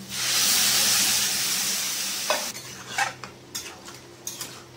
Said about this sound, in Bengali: এবার আলু সেদ্ধর যে জলটা ওটা দিয়ে দেবো।